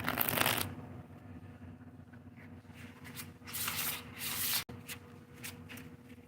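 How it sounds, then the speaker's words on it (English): Tarot cards being shuffled close up, with repeated brisk riffling bursts and soft rubbing between them, heard alone without talk. "Let's get these cards out here."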